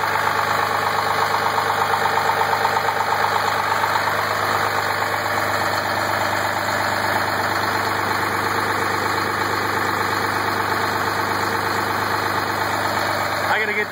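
A Cummins diesel in a 2005 Ford truck idles with a leaking exhaust, a steady loud rattling clatter that runs unbroken throughout.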